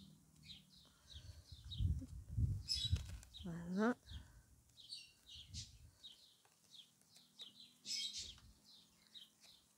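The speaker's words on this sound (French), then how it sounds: "quand maintenant j'ouvre la fenêtre et qu'ils entendent les oiseaux dehors" Pet budgerigars chirping indoors alongside outdoor birds heard through an open window, with repeated faint tweets scattered throughout, while a person speaks briefly in the foreground.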